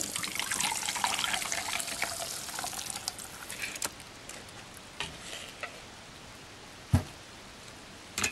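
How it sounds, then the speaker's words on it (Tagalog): Liquid for pandan kutsinta poured through a strainer into a mixing bowl, a close splashing trickle that tapers off, followed by scattered light clinks and taps. "meron tayong strainer, salain po natin"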